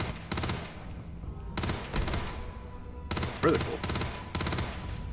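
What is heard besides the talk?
gunfire in the video game Starfield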